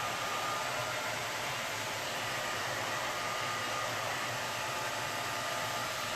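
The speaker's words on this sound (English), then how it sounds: "just run your blow dryer over it or your heat gun" A blow dryer runs steadily throughout, a constant close whooshing roar of air with no pauses and no voices.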